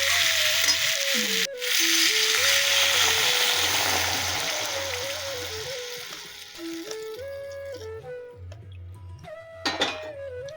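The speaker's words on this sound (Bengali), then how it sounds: "জল মা দিয়ে দিল, এবারে ফুটে উঠুক।" Water goes into a pan of silver carp curry with potato and taro, setting off a loud hissing sizzle that slowly fades as it settles, while steady tonal humming notes play in the background.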